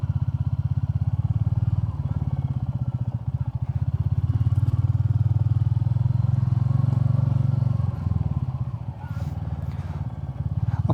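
Royal Enfield Classic 350 motorcycle riding over sandy gravel roads, its low steady single-cylinder thump loud and continuous, with a loose crunching clatter and a brief dip in engine note near the end.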